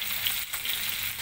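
A blended chili and onion paste sizzles as it fries in a pan for sambal petai with prawns, a steady bright crackling hiss with no talking.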